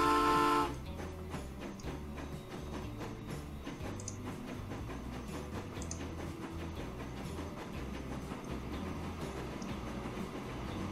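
A train runs on a Swiss Alps map in the Transport Fever railway game, opening with a brief whistle and then settling into a steady, rhythmic chugging rumble that continues throughout.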